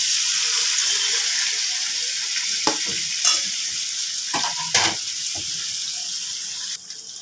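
Paneer and grated ginger hit hot oil in a pan, producing a loud, steady hiss of frying throughout, with a few soft clinks and stirring knocks on top.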